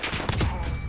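Gunfire in the video game Call of Duty: Modern Warfare: a rapid burst of several loud, close shots blurring together over less than a second.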